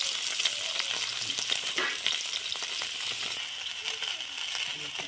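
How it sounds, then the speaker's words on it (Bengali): Eggs frying over low heat in a pan give a steady close sizzle with faint stirring and light scraping, heard alone with no talk. "কম রেখে হালকা আঁচে ডিমগুলো ভালো করে ভেজে নেব"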